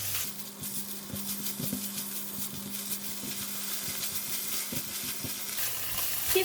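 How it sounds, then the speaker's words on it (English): Minced pork stir-frying in a pan for a snow pea dish, a steady close sizzle with intermittent scrapes and stirring knocks throughout. "Give it a stir until the minced pork is cooked."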